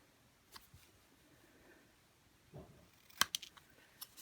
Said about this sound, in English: I'm going to cut a border here as well.